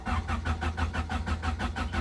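A 1992 Honda Civic with a B18C engine and a fuel-related no-start fault cranks with a steady, even pulsing rhythm, close and continuous, with no talking.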